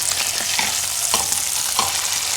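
Burger patties sizzling in a pan, a dense, close frying hiss that holds steady with brief crackling bursts, nearly ready to be flipped.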